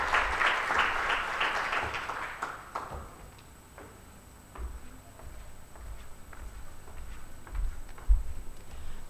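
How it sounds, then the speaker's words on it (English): A round of applause from an audience at a conference plenary and awards session fades out over the first few seconds, followed by quiet room noise with scattered knocks and shuffling. "So please give her a round of applause."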